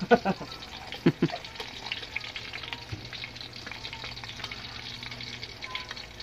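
Hotdogs fry in a pan with a soft, steady sizzle under a few sharp knocks and clatters at the start, and voices break in now and then.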